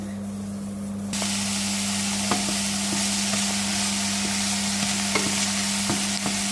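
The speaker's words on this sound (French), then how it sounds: "Je les mets comme ça directement dans la poêle à rôtir" Lardons roasting in a dry frying pan with no fat, giving a steady close sizzle and crackle with scattered pops, over a low constant hum, beginning quieter before the frying swells.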